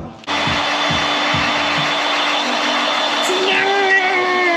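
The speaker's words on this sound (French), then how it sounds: "Pour avoir une belle finition et bien chauffer au décapeur thermique" A heat gun blows steadily on vinyl wrap film being applied to an Audi A4, a loud, continuous close-up whoosh with a motor whine that shifts pitch partway through, running without pause from just after the start to the end.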